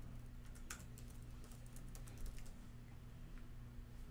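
Keys on a computer keyboard being typed in a quick, quiet burst of clicks, strongest early on and tapering off, with a low steady hum underneath.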